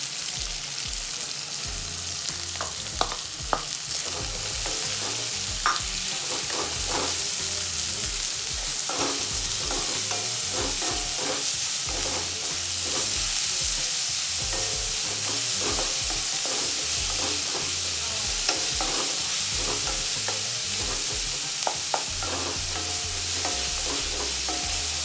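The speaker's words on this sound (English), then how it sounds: "Saute the onion till light golden brown color." Chopped onions sautéing in a hot pan for homestyle chole, a continuous loud sizzle with frequent spoon scrapes and stirring clatter throughout, close up and free of speech.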